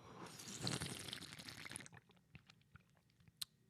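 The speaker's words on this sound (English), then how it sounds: "Let me take a sip of my water on that note." Someone takes a sip of water close to the mic: a breathy slurp and liquid noise, then quiet small gulps and mouth clicks.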